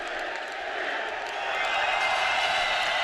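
An Azerbaijani crowd at a heavyweight 91 kg boxing quarterfinal of the 2011 AIBA World championships roars in a dense, continuous wash of cheering that swells louder toward the end.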